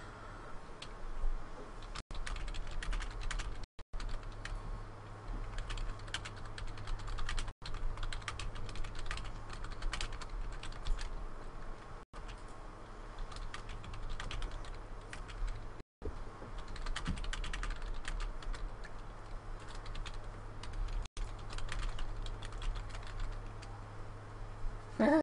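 Mechanical keyboard typing clatters on in rapid, continuous bursts with brief pauses, close and fairly quiet over a low background hum.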